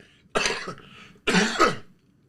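Two harsh coughs close to the mic, separated by a short pause, with near silence around them.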